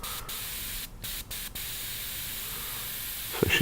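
A paint spray gun sprays in a loud, close, continuous hiss, broken by a few short gaps as the trigger releases, ending with a small clunk.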